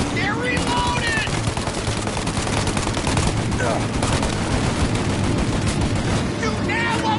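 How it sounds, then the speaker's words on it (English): Gunfire rattles through a shootout in the video game Mafia, with dense bursts of automatic fire and single shots overlapping continuously and loudly, while voices shout over the din. "Shoot out their gun when there's a break in the fire!"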